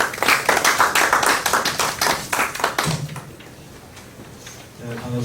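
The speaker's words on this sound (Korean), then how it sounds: "사단법인 시민과 미래 김성호 이사장님께 두 번째 발제 박수로 청해 듣겠습니다" An audience at a Korean civic forum gives a short round of applause, dense clapping for about three seconds that quickly fades into room quiet before a speaker begins.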